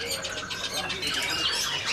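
Caged birds at a bird shop kiosk, including Sumatran parakeets, giving a faint, busy mix of chirps and tweets over a murmuring background.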